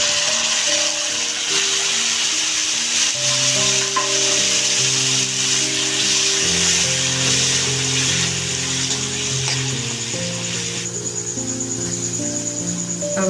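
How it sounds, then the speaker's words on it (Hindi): Finely chopped tomatoes sizzle and fry in a pan of spice masala for Maharashtrian Kolhapuri misal, a steady close crackle with tonal music in the background and no talking. "अब हम इसमें ये 3 टमाटर महीन काट कर डाल देंगे।"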